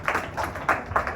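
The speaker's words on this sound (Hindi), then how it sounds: "ताली बजा दो इसके लिए." Children in a classroom clap together, a few quick bursts of hand claps in a loose rhythm, fairly near and short, with no talking.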